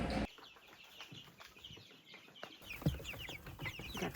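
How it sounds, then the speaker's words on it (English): Young chickens kept in two-floor coops inside a cabin, a busy chorus of close peeping and clucking chirps, continuous and overlapping, with a soft rustle of movement. "We got the teenage chickens, the toddlers."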